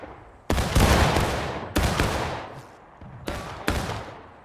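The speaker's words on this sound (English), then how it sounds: "Let's give him a volley, boys. Ready. Aim. Fire." Musket volleys in the video game War of Rights, fired at Harper's Ferry: several loud, ragged massed blasts about a second apart, each with a sharp crack that decays into a rolling echo.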